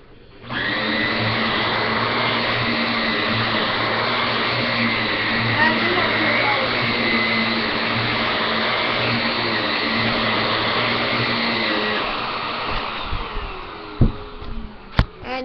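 A vacuum cleaner with a removable powered brush roll runs in a steady loud whirring drone for most of the stretch, then winds down into a few scattered clunks near the end.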